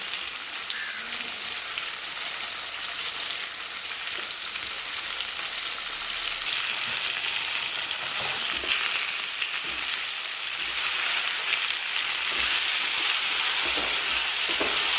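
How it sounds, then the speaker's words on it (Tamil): A pan of onions sautés for onion sambar, giving a steady, even sizzle with faint scraping stirs, close and with no talk. "வெங்காயம் நிறையா வதங்கட்டும்."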